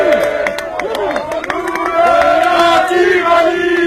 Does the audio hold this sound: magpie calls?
no